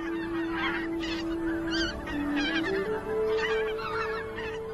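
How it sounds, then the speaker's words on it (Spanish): A flock of geese, including bean geese, white-fronted geese, greylag geese and Canada geese, honks continuously in overlapping calls during late winter in the Biebrza valley, fairly loud and steady with no talking. "Cuando llegan las bandadas de gansos, el invierno en el valle de Biebsa toca lentamente a su fin."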